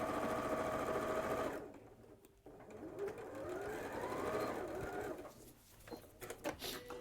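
Overlocker sewing machine running over fabric edges, a steady close whir for about a second and a half, then it stops and quieter handling noises and soft tones continue.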